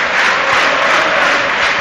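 A packed home football crowd at Leeds United roars steadily in a stadium, a loud, sustained wash of cheering voices rising with no pauses.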